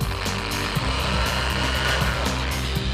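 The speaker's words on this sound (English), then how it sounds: "We're just drilling holes, aren't we?" A power drill bores holes in parts for a chopper motorcycle kit, running loud and steady and close up, with no talk.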